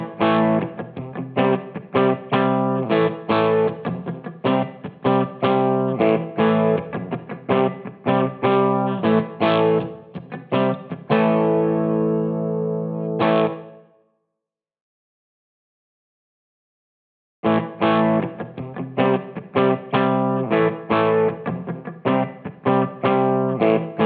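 Electric guitar played through a BOSS EH-2 Enhancer pedal on setting 2, strummed chords ringing loud and bright with effect shimmer, a held chord fading into a few seconds of silence before the playing resumes.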